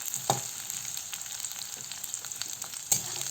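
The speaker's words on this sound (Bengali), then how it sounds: "তারপরে একটু নাড়াচাড়া করে নিতে হবে।" Food fries in a pan with a steady close sizzle, broken by a few light scrapes and taps as it is stirred.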